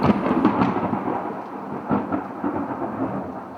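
Rolling thunder from a storm, a loud crack at the start that decays into a long, rumbling roll with a second swell partway through, heard alone with no voices.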